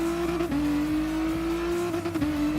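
The Nissan Concept 2020 Vision Gran Turismo race car engine in Gran Turismo Sport holds a steady high drone, briefly dipping twice as if shifting gears, loud and close with no voices.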